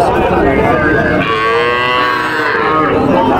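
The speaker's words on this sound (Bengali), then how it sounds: "এই যে একটু দেখতে পাচ্ছি বকনা গরু দেখেন, মাথার কম্বল দেখেন।" A cow lows loudly at the Panchbibi cattle market, one long, drawn-out moo rising over the steady background din of the crowded livestock market.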